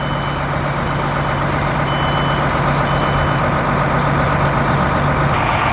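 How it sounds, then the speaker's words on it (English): A 2007 MCI E4500 coach bus engine idles while warming up, a loud, steady, unbroken drone with no talking. "The bus started up great. It's warming up now."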